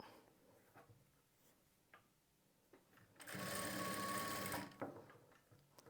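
A sewing machine stitches thread piping onto a blouse, front and back together, running in one loud sustained burst of about a second and a half between quieter handling clicks and fabric rustles.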